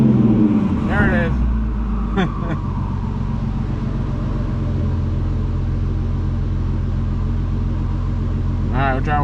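A car engine is held against an N2MB WOT Box two-step launch limiter and begins to misfire, giving a loud, steady, rumbling drone throughout, with a few brief voices over it.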